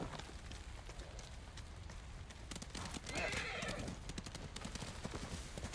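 A horse's hooves clop rapidly at a gallop in the video game Ghost of Tsushima, with a whinny partway through, set against a steady background hiss.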